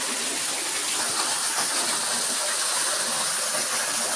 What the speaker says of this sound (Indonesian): Air terjun di Kampung 5